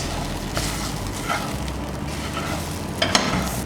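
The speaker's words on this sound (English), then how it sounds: "Then I'll stir under medium heat." Corn stirred in a pan over medium heat gives a steady, close sizzle and frying hiss, with a few soft scraping strokes of the spoon and a sharper clatter near the end.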